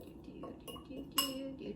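Metal utensil clinking against a bowl while mixing sugar, Himalayan pink salt and other ingredients, a few faint, scattered taps with one brighter clink near the end.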